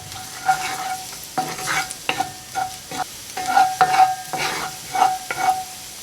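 Garlic sautéing in a pan, giving a soft, low sizzle under a series of distinct spoon scrapes and stirs spaced every second or so, close by and with no talking.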